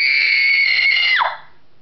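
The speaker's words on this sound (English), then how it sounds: "She ran to her room and screamed into her pillow." A girl screams, a sustained high shrill cry that holds steady for over a second, then drops in pitch and cuts off, close and loud with no other sound.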